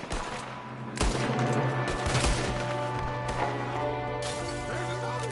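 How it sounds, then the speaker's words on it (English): Gunfire in Red Dead Redemption 2, a gunman shooting from a window: sharp shots and bursts cracking over a steady tonal game background, with a few louder reports spaced through the stretch and some voices mixed in. "There's another one shooting from the window."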